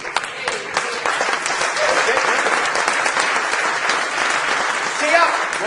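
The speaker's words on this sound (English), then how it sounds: "stand up on your feet first and give a big round of applause to Jim Francis" A standing seminar audience gives a big round of applause, dense steady clapping that fills the room for several seconds, with a voice faintly over it.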